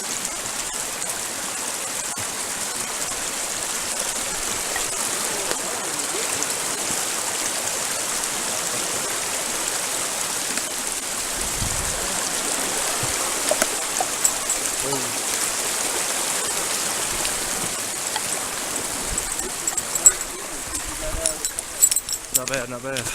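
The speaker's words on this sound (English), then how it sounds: "Across the creek." A creek flowing along a winter hiking trail, a continuous close rushing and splashing of water that holds steady throughout, with occasional footsteps or gear rattles near the end.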